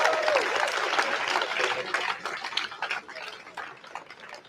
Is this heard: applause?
yes